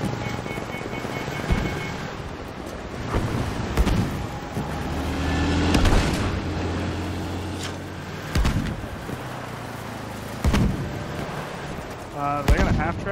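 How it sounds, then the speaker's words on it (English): Enemy gunfire in Battlefield 5 crackles over a steady rumbling battlefield din, with scattered sharp shots, distant booms and a few louder bursts spread across the stretch, and a voice talking at times underneath. "He's shooting at me."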